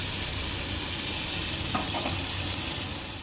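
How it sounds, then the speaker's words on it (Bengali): Salt and ground spice paste are stirred into a frying pan while cooking paneer capsicum, giving a steady soft sizzle with a couple of faint scraping strokes and no talking. "এর মধ্যে দিয়ে দেবো 1 চামচ লবণ আর বেটে রাখা সমস্ত মশলা দিয়ে ভালো করে এবার নেড়ে নেব"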